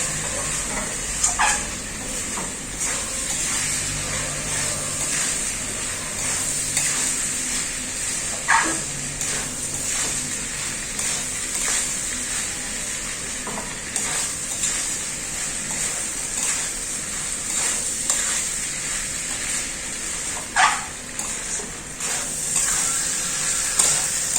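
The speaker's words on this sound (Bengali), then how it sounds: "এই মশলার সাথে খুব ভালো করে চালটা কষিয়ে নেবো" Soaked Gobindobhog rice stir-fries with spices in a pan for paneer khichuri, giving a steady, moderate hiss broken by a few sharp scraping clicks of stirring, with no talking.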